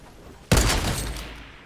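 A single loud gunshot in the Fortnite battle royale game, a sharp near blast from a sniper rifle followed by a rumbling decay, after a quiet lead-in.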